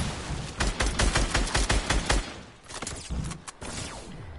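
Rapid bursts of automatic gunfire in a Fortnite Battle Royale match, dense volleys for about two seconds, then a short lull and more scattered shots, loud and close with no talking.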